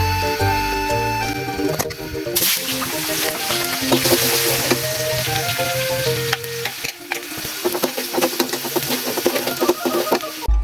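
Food sizzles in oil previously used to fry fish, a steady loud frying hiss with stirring clatter and scraping on top, background music playing throughout.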